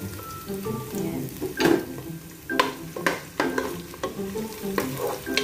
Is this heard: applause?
no